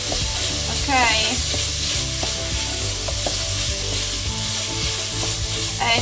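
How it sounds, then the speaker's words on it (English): Pumpkin and onion fry in a pot for pumpkin risotto, a loud, steady sizzle with occasional stirring scrapes up close. "and I let it fry for a couple of minutes"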